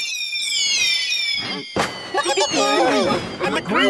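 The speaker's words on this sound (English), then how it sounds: "The new fireworks are so fabulous, they're simply to die for." New fireworks bursting in a cartoon scene: whistling rising streaks followed by a sharp crack and a string of crackling pops and fizzing bursts, loud and close.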